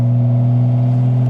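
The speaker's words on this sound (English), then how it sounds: "I took out the exhaust on the car, and that's why it's so loud." BMW M240i with its exhaust removed idles loudly and steadily at close range, producing a deep, droning engine tone without any change in pitch over about a second.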